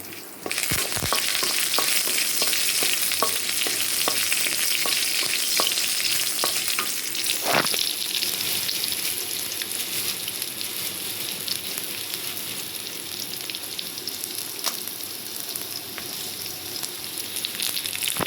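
Garlic and onion frying in a pan, a continuous close sizzle broken by a few sharp clicks and scrapes of stirring, settling into a steady hiss.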